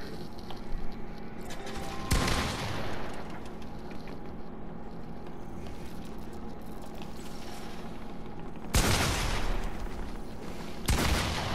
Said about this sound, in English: Why is he shooting?